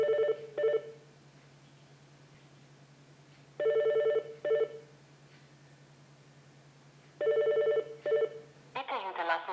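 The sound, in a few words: telephone call ringing before voicemail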